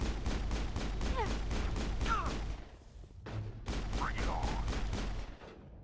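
Pistol shots crack out in quick repeated bursts during Mass Effect combat, loud and close. Game effects and a voice drift through, and a short lull breaks the firing midway.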